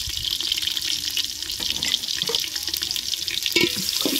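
Chopped onions frying in hot mustard oil in a cooking pot make a steady, close hiss and crackle, with occasional stirring clatter over a continuous sizzling wash.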